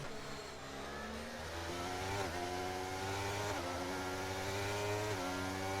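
F1 cars in an F1 racing game at Australia, engines whining at high revs with pitch sweeps on gear changes, a steady continuous drone of several cars at moderate level.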